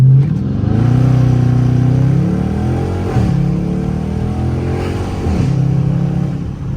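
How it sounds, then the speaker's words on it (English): A Dodge Charger RT launching with launch control for a 0-60 run, the engine roaring loud and close as it pulls hard through the gears, with pitch drops at each shift before climbing again. "So I'm gonna slam on our brake, activate launch control."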